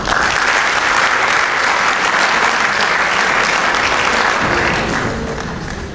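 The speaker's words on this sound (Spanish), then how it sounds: "Un aplauso" Loud, sustained applause from an audience at a commemorative literary reading, a dense wall of clapping that holds steady for several seconds before easing slightly at the end.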